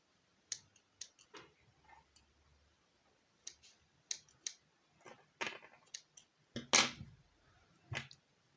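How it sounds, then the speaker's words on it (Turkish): Scissors snip off excess thread while making Turkish needle lace, a quiet series of sharp close clicks and snips in irregular bursts, with faint handling noise between them. "Evet şu fazlalık ipimi burada koparıyorum artık."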